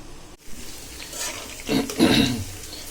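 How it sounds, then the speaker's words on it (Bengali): Fish being fried in hot oil with onion, garlic and green chillies gives a soft sizzle and stirring scrapes, building into two louder bursts of spitting oil near the end. "মাছ যেগুলো ভুনা করব সেগুলো পেঁয়াজ রসুন আর কাঁচা মরিচ তেলে দিয়ে দিলাম"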